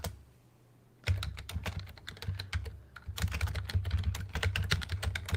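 Fast, irregular typing on a computer keyboard, close and crisp, starting after a second of near silence, with a brief pause midway before the clicking resumes in dense bursts.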